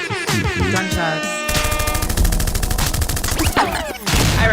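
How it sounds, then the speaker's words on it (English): Rapid bursts of gunfire played as a sound effect, loud and dense, with repeated shots crackling over a busy mix of other effects and tones throughout. "Gunshots."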